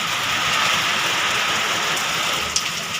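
Heavy rain lashes down in strong wind, making a dense, steady roar close by that never lets up. No one talks.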